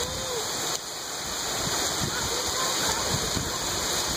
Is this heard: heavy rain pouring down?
yes